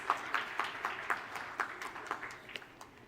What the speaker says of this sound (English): Please do join me in extending a warm applause.